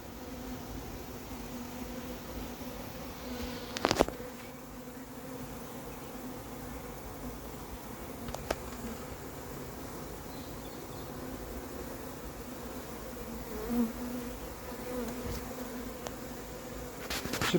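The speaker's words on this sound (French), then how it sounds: "Elles sont pas stressées ces abeilles depuis tout à l'heure" A recovered swarm of calm honey bees settling in a hive under a queen excluder, giving a continuous low buzzing drone throughout with a few faint knocks and no talk.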